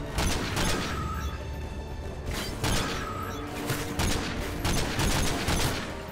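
Rapid bursts of gunfire crackle repeatedly over a dense, busy background of explosions and mechanical noise in a Call of Duty: Modern Warfare 2 firefight.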